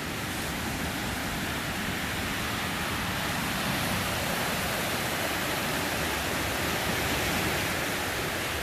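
High floodwater rushes steadily at Cold Springs in Lee County, Virginia, near a roadside curve, a loud, dense, unbroken roar that fills the scene with no voices.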